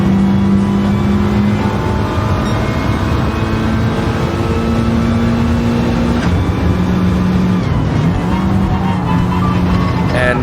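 A race car in Gran Turismo 7 roars continuously at high revs through a race lap, loud and sustained, with its engine tone rising and falling slightly and no voices over it.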